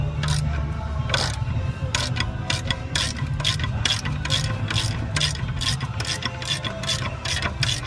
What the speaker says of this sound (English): We're gonna try and take a bolt out, see what happens.